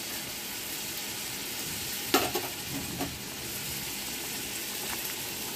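Food sizzles and fries steadily in a frying pan while a spoon stirs and mixes it, a couple of sharper scraping knocks standing out near the middle, close and moderately loud.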